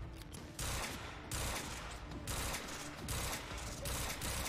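Gunfire from a heavy-recoil weapon in the video game GTA 5, loud repeated blasts in sustained bursts with metallic mechanical clatter, fairly continuous over several seconds.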